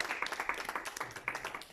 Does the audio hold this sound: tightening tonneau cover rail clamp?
no